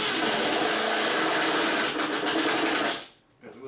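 Screws being driven with a power driver to fix plexiglas onto a model train layout, a dense steady whir for about three seconds that stops abruptly, followed by a faint rustle.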